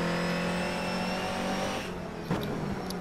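A front-wheel drive TCR race car in the video game rFactor 2 holds a loud, steady engine drone, then the revs drop off sharply as the driver lifts, with a brief blip before the engine picks back up.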